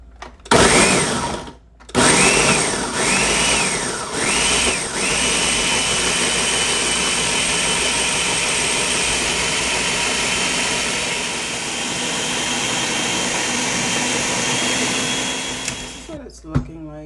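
A countertop blender whirs loudly as it purées fruit for juice, starting in short bursts before settling into a long, steady roar that runs until it abruptly stops near the end.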